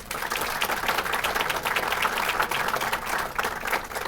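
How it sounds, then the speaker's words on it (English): A banquet crowd at a basketball coaches' hall of fame dinner applauds, broad sustained clapping that fills the room from start to finish. "But they deserve a big round of applause"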